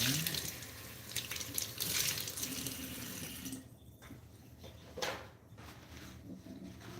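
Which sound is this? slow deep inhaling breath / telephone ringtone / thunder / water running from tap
water running from tap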